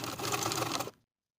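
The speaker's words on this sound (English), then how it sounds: "we'll overlap the 2 short ends and stitch back and forth to secure" Sewing machine running in a short, steady burst as it stitches back and forth over overlapped elastic ends on an elastic-waist pants casing, close and clear, then stopping abruptly into silence.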